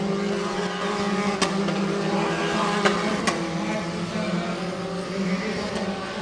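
Formula 4 single-seater race cars from the 2017 South East Asia championship run on a circuit, a steady engine drone with a few sharp transient bursts as cars pass, no talk heard.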